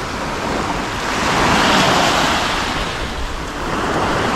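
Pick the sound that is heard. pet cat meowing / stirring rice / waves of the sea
waves of the sea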